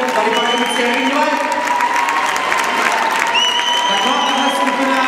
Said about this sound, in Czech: Hodně velký potlesk od všech účastníků